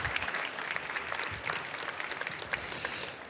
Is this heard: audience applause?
yes